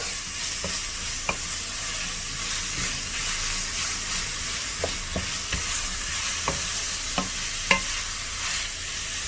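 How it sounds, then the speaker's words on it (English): Onions fry in a pan with a loud, steady sizzle and hiss, while a utensil stirs them and taps the pan in scattered sharp knocks. "Give it a good stir."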